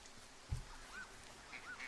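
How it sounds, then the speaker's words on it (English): Ducks quack faintly in the distance in the Firewatch video game, with a few short calls over quiet outdoor ambience and a soft thud near the start. "I hear ducks, but I don't see them."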